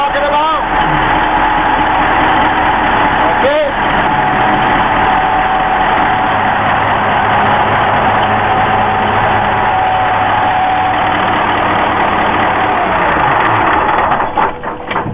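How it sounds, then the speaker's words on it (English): A large main engine aboard the Split Rock is started and settles into a loud, steady idle, a heavy continuous drone with a brief surge near the start before cutting off at the end. "now we're going to do a main engine light off"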